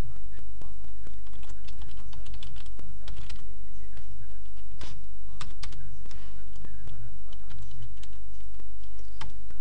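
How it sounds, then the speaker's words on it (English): Typing on a computer keyboard during a Windows XP Professional setup, quick irregular key clicks over a constant low hum, fairly close and loud. "So, type in your name."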